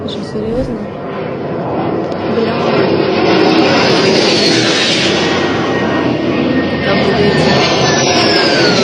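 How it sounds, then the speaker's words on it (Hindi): A Ukrainian MiG-29 fighter jet in flight, chasing down a drone; a broad, steady jet roar swells over the first three seconds and then holds loud and continuous, with a voice talking over it. "यूक्रेन MiG-29 का इस्तेमाल, फाइटर जेट का इस्तेमाल कर रहा है"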